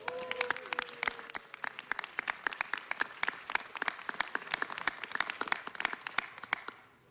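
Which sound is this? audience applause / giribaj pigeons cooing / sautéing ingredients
audience applause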